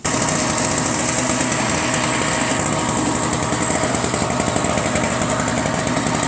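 A lawn tractor engine, fitted with an electric fuel pump, runs loud and close with a steady, buzzing, rapid mechanical chatter throughout.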